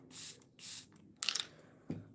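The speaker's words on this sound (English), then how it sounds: "I'm gonna spray a little bit of the Danessa Myricks Liquid Blurring Balm Mattifying Setting Spray." Two quick bursts from a Danessa Myricks Liquid Blurring Balm Mattifying Setting Spray bottle, each a soft airy hiss lasting about a quarter second, close to the mic, followed by faint tapping and handling noises.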